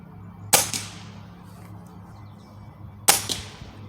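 A Ruger Impact Max Elite .22 caliber gas piston air rifle firing hollow point pellets at a 30-yard target, two sharp, close cracks about two and a half seconds apart over a quiet hum.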